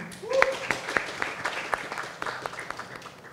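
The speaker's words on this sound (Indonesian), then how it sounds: "Tepuk tangan dulu dong untuk Mas Yasin" Scattered applause for a speaker at a public transport discussion in Jakarta, a thinner crowd of claps with a few sharp, close hand strikes standing out as the clapping tapers.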